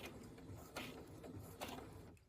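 A sewing machine runs briefly over bias tape, putting in a couple of stitches with short mechanical whirring bursts, close and fairly quiet, with no talk.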